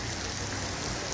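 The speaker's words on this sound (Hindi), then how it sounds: "अब इसके बाद अभी सुबह से बारिश शुरू हो गई है" Rain falls steadily in Makkah, a dense even hiss of drops on a surface with no other sounds.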